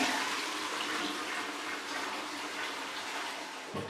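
A toilet in a house at 3 Ives Place, Armadale flushes in one continuous rushing, gurgling wash of water that stays loud for about four seconds with a faint knock near the end and no talking.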